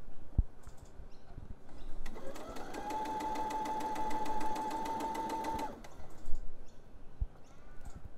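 Sewing machine running a straight stitch to attach fold-over elastic to knicker fabric, one steady whirring burst of about three and a half seconds between quiet pauses.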